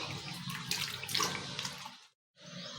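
Cut potato pieces washed in a bowl of water, with close sloshing and running-water splashes that stop briefly before resuming.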